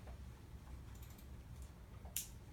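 Faint keystrokes on a computer keyboard as children type a login, a handful of soft, scattered clicks and one brighter tap near the end, in a quiet classroom.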